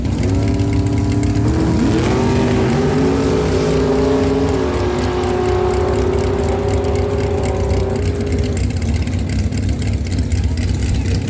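A drag race at Miramichi Dragway between a 1992 Ford Thunderbird with a 632 cubic inch big block and a dragster, engines screaming up through rising gear-change pitch sweeps, loud and sustained, with an announcer's voice faintly underneath.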